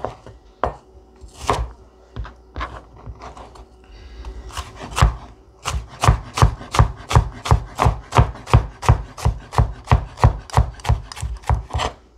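Onion being chopped into slices on a board, with a few scattered cuts giving way to a fast, steady run of sharp, close knife strikes.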